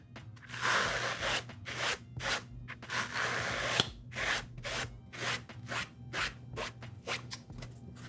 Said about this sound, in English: we're gonna start lightly scrubbing the Atlanta Braves joint with the Hat Club foam brush